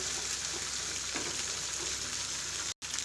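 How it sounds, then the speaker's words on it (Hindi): Ginger and garlic fry in a pan over a medium flame, giving a steady soft sizzle with a couple of faint stirring scrapes, close and continuous apart from a brief dropout near the end. "मीडियम फ्लेम पे हमने अच्छे से भून लेना है।"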